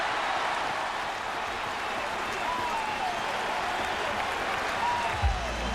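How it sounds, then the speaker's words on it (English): Sustained applause from Yankee fans at Shea Stadium during the 2000 World Series Game 4, a broad steady wash of clapping from a large crowd heard at a distance, with a faint voice over it. "Clear from the applause"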